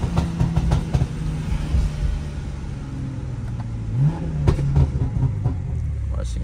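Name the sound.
BMW M340i car engine revving, sounding wrong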